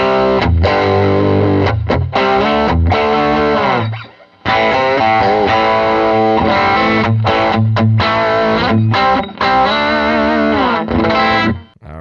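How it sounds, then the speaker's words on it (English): Electric guitar played through the blue side of a Browne Protein overdrive pedal, loud and driven with thick distorted chords and riffs, two brief pauses breaking the continuous playing, no talking. "let's hear the blue side of the Protein by itself"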